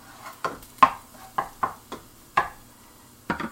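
Shrimp and garlic saute in a pan, sounded by a string of sharp utensil knocks and scrapes at irregular intervals. Close and fairly loud over a faint background with no speech.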